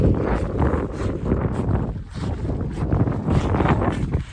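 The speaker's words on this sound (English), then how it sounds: "and it's windy" Strong wind gusts buffet the microphone on a foggy walking trail along the Camino de Santiago, a loud continuous roar that rises and falls, with no voices.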